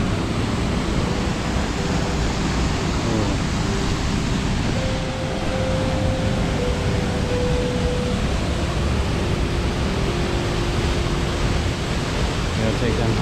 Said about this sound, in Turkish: Evet, şelaleye yaklaşıyoruz.